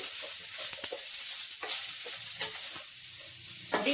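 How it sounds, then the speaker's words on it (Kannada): Sliced onions fry in a pan, a steady close sizzle with light stirring clicks and scrapes over it. "ಈರುಳ್ಳಿ ಸ್ವಲ್ಪ ಗೋಲ್ಡನ್ ಕಲರ್ ಬರೋವರೆಗೂ ಫ್ರೈ ಮಾಡ್ಕೊಳ್ಳಿ"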